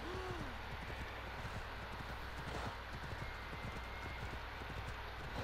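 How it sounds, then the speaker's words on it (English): Horse hooves clop up stone stairs in Assassin's Creed Odyssey, a steady rapid run of hoof strikes over a constant broad background hiss, with a brief faint whinny at the start. "I can't believe you can ride horses upstairs."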